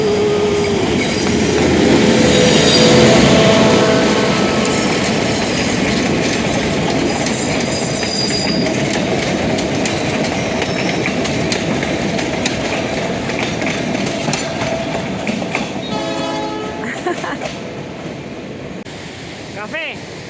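Train passing on the tracks beside the Urubamba River at Machu Picchu pueblo, a loud, continuous rumble with clickety-clack wheel rhythm and squealing wheels, rushing river water underneath.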